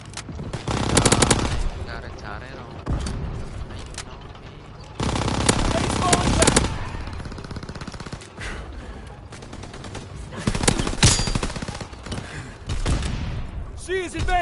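Rapid bursts of machine-gun fire crackle in Call of Duty WWII, with long automatic volleys broken by short pauses, close and loud over shouted battlefield voices.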